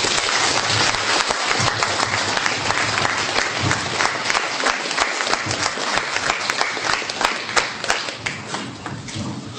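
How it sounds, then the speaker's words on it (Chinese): A lecture audience gives a professor long, warm applause after his history talk, with dense overlapping claps, some sharp individual claps standing out, sustained loudly across the whole stretch. "让我们再次以热烈的掌声感谢韩刚老师给我们的演讲。"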